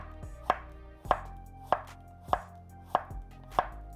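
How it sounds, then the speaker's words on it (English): A knife slices zucchini at an angle on a cutting board, six crisp, evenly spaced chops close by with no talk. "since it's not very thick, we're just going to slice it at an angle, like so"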